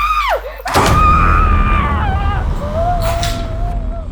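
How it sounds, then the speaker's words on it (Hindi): A woman screams loudly and close by in a tense indoor scene. Several drawn-out wailing cries sit over a thud and low rumble, and the shrieks waver and fall in pitch. "ये भी ना बहुत चिल्लाने लगी है।"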